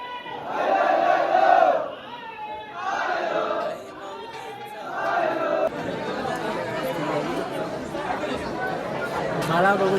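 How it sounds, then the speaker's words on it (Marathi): A dense crowd of devotees at the Ekvira Devi temple near Lonavala chants and shouts in loud, rising waves over steady chatter, filling the space continuously from start to finish. "सो खूपच गर्दी आहे आईच्या दर्शनाला."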